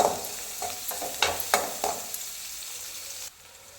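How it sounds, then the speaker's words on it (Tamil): Onions sauté in a pan for a bitter gourd dish, a close sizzle with several distinct spoon scrapes from stirring, then fading quieter at the end. "நல்லா வதக்கிக்கணும் வெங்காயத்தை"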